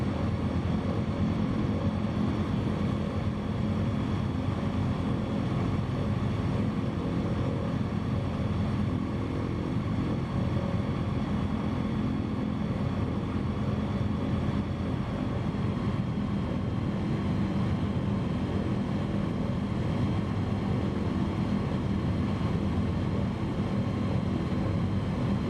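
A light bush plane in Microsoft Flight Simulator 2020 drones steadily in flight, a constant propeller and engine hum with no change in pitch or loudness, heard alone.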